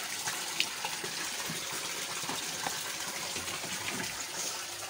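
Clean water pours into a koi egg tank in a steady, close gushing splash that runs continuously with small bubbling spikes.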